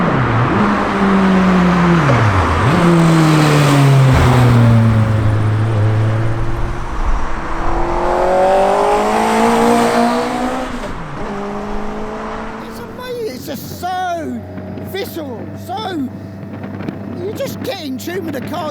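An MK Sport 200 car powered by a 205-horsepower Suzuki Hayabusa motorcycle engine revs loud and close, the high engine note climbing and dipping through several pulls before it settles, with someone talking over the later part.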